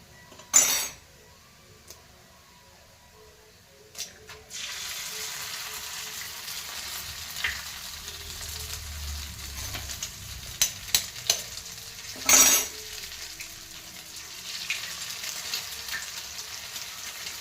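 Egg frying for egg charmuri, a couple of sharp clanks of a utensil against the pan before a steady sizzle starts, then continuous frying with occasional scrapes and taps of stirring, close up.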